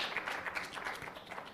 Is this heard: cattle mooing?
no